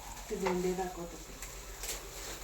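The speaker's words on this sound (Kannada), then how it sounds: "ಅವೆಲ್ಲವನ್ನು ಹುರಿಬೇಕು ಇಲ್ಲಿ ಹುರಿತಾ ಇದ್ದಾಳೆ" Cumin, garlic and green chilies frying in a pan, with a soft, steady sizzle and light stirring under a voice that speaks briefly, all fairly quiet.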